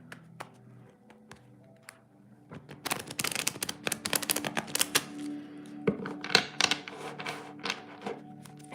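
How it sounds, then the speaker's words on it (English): Tarot cards are shuffled by hand in a quiet room, starting with soft scattered taps and then building into dense, irregular riffling and clicking bursts that continue to the end. "So let me start shuffling. I want to mix cards really well."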